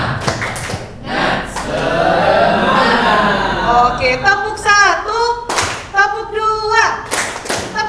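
Teachers at an Islamic elementary school clap as a group in a counted routine, a few sharp claps breaking through loud, continuous talking and calling voices.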